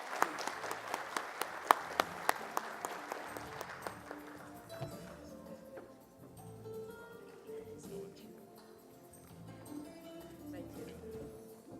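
Audience applause fills a hall as a speaker, Leanne Manas, is welcomed to the stage, with dense clapping for about four seconds that then fades into low crowd murmur.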